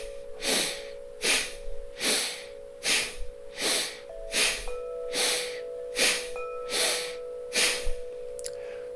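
Deep belly breathing runs in a slow, steady rhythm of about a dozen close, airy breaths, each inhale and exhale sounding clearly over a faint background hum.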